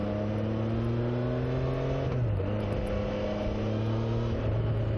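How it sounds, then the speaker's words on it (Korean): A Triumph Trident 660 motorcycle engine hums steadily while riding, its quiet exhaust note dipping briefly as it shifts, with constant wind noise. "머플러 소리는 생각보다 너무 작습니다."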